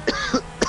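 A person gives three short, sharp coughs in quick succession, close up and with no talk.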